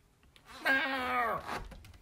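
A cat being held gives a single clear, drawn-out meow that rises and then falls away, close and alone in an otherwise quiet room.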